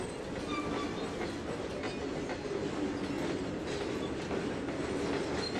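Train of tanker cars rolling along the track in the Trainz 2022 railroad simulator, a steady close rumble with clickety-clack wheel noise and faint squeal, continuous and alone without talk.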